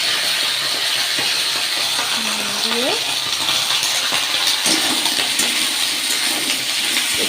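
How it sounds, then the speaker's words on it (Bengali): Chopped flat beans and potatoes hit a hot kadai and give off a continuous loud sizzle and hiss, with a short spoken word partway through. "আগের থেকে কেটে রাখা শিম আর আলুটা একবারে কড়াইতে দিয়ে দিলাম"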